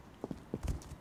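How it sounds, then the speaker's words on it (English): Horse hooves clip-clopping in the survival game Rust, a few quick separate steps close by in a short burst, with faint background noise between them. "why did you ride on the horse?"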